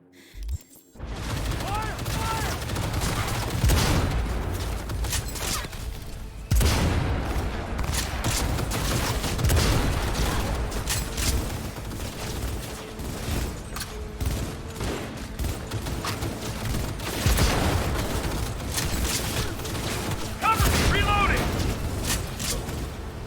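Dense gunfire in a Cyberpunk 2077 firefight, continuous loud bursts and shots layered with booms and impacts for the whole stretch, with a couple of brief pauses and spikes of heavier fire.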